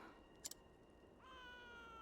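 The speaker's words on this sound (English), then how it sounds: "Sounds more like a cat or something." A cat meows in the video game Octopath Traveler 2, a single faint cry in an old city setting, with a rising tonal call near the end over a quiet ambient background.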